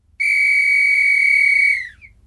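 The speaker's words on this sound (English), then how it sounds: "blew a sharp blast on the whistle" One sharp, steady whistle blast, loud and close, holding for about a second and a half before it tails off.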